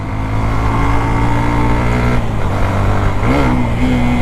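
A freshly serviced motorcycle, ridden hard, drones loudly with a steady close engine note, then revs sharply upward near the end.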